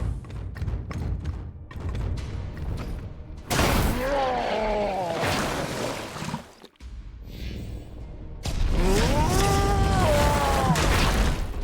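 Explosions in the video game Warhammer 40K Chaosgate: Daemonhunters: two loud, broad blasts, each swelling into a sustained roar with a rising and falling tonal sweep, over a bed of game combat noise.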